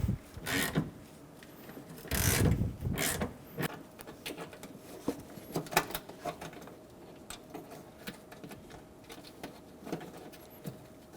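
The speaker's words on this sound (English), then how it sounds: "Using a 10mm socket, we're going to loosen the bolt." A 10mm socket ratchet loosens a bolt on a 2005-2015 Toyota Tacoma, giving close, irregular clicking and scraping strokes with a few louder rubbing bursts.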